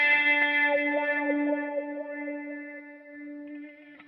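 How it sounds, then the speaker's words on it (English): A sustained electric guitar chord rings out through a NUX MG-300 multi-effects unit with a swept, vowel-like wah tone, slowly fading without any talk. "the wah pedal is now, the wah effect is now engaged"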